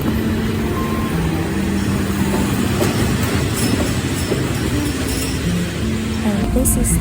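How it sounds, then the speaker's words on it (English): An ordinary fan-cooled passenger train runs between Bangkok and Ayutthaya, Thailand, giving a steady, loud rumble of carriages on rails throughout, with faint tonal hums and occasional clatter. "This is an ordinary fan train, so you can enjoy the fresh air."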